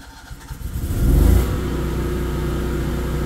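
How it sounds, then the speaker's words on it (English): A Kohler 20 kW standby generator starts automatically after a utility power cut, its engine cranking and catching in a rising surge, then settling into a steady, loud mid-pitched hum nearby. "If we shut the utility power off, the generator is going to read no power and it should start automatically."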